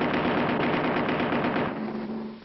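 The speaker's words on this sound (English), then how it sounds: "Hey, Willie, get ready with that turret gun." Rapid cartoon turret gun fire from a 1959 animated TV series, a steady dense rattle of shots lasting over two seconds and tapering slightly at the end, with no talk.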